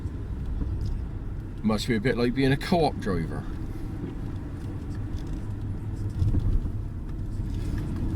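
A car climbs a narrow hillside road in Crumlin, its engine a low steady rumble heard close up inside the cabin, with someone talking over it partway through.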